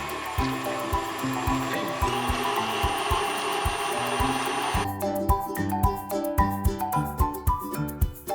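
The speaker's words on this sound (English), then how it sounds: "we're gonna beat this on high for another 2 to 3 minutes to mix it all in" A hand mixer running at high speed beats cookie dough for Minecraft-themed cookies, a steady close whirring with uneven rattling and knocking against the bowl that turns choppier partway through.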